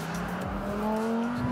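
Lamborghini Huracán STO on a fast lap around a track, its engine note sweeping upward in pitch as it accelerates hard through the gears, loud and close.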